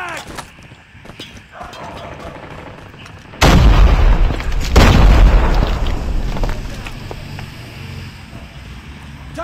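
A frag grenade goes off in Call of Duty Mobile as a sudden loud boom, then a long rumbling roar with scattered gunfire and game noise around it.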